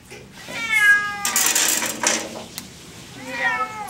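A cat being bathed lets out several drawn-out, wavering meows, loud and close, with splashing and rustling noises in between.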